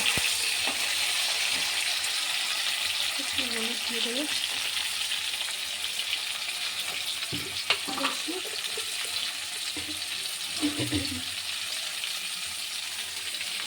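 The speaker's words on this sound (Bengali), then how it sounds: "সেই উচ্ছেগুলো একটু নুন দিয়ে হলুদ দিয়ে ভেজে নেব" Bitter gourd pieces frying with salt and turmeric give a steady broadband sizzle throughout, with a few faint scraping stirs and brief clinks near the middle and end; no one speaks.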